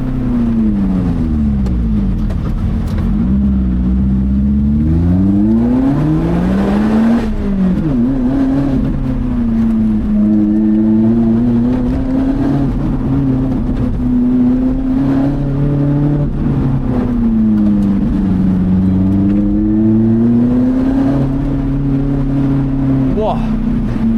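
Lotus Elise driven hard on a winding road with a rally driver close behind, heard from inside as a loud engine revving up and down through gear changes for the whole stretch, with a person talking over it.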